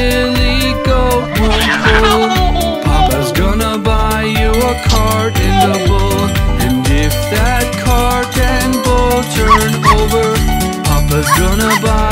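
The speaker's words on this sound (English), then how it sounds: "if that dog named Rover won't bark" Playful dog barks and yips in a children's lullaby recording, rhythmic and loud, repeating with the bouncy music throughout.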